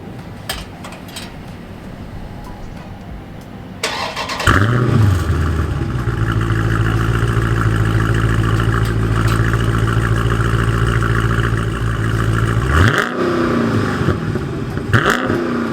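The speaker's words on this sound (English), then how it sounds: "I'm about to turn this car on" A 2020 Dodge Challenger 392 Scatpack T/A V8 cranks and fires with a loud roar, then settles into a deep, loud, rumbling idle with a brief rev blip before falling back.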